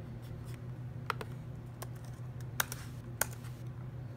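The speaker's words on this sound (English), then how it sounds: "If I could type." Typing on a computer keyboard produces a quiet run of light, irregular key clicks with a few sharper taps over a low steady hum.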